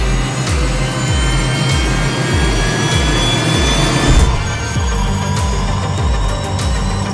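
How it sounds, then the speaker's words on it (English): The Hyperion XP1 hydrogen hypercar runs steadily with a loud, close electric whine and a blower forcing air into the engine, a rhythmic low pulsing repeating about twice a second beneath a high tonal drone. "it's the sound of a blower ramming oxygen into this side of the engine."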